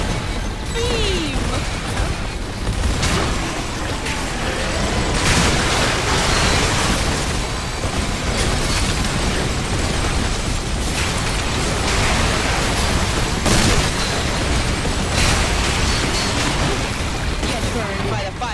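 Orbital cannon beam strikes from the Air Raider's support in the EDF 6 video game, a sustained roar of blasts and crashing booms that stays loud throughout, with a voice talking over the din.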